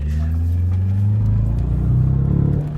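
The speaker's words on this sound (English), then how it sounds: "You hear that peel out?" A Volkswagen GTI with a manual gearbox, drifting and peeling out: a loud, continuous engine roar with rising revs and rough tire rumble, heard close up from the car.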